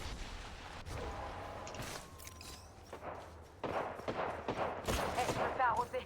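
Gunfire in the video game Apex, scattered bursts and shots of varying loudness, building toward the end, heard under faint game noise.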